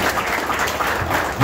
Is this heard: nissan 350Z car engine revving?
no